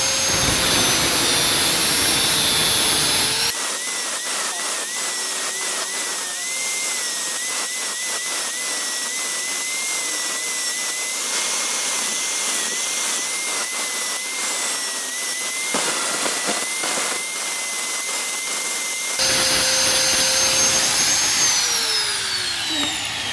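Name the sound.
power tool cutting off excess motorcycle clutch part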